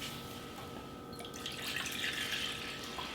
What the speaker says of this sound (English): So go ahead and start filling up this measuring cup.